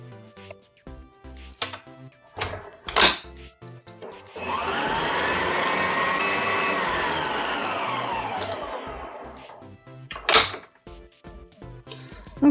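An electric mixer beats mint chocolate cookie dough for about five seconds, a loud steady whir that rises and then winds down, with clanks from the bowl and utensils before and after it.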